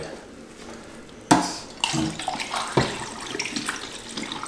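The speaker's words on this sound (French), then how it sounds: "je ne traîne pas pour mettre le bain d'arrêt" Stop bath poured from a container during black-and-white film developing at home: a sudden splash, then uneven close trickling and sloshing of liquid, fairly quiet, with no talk.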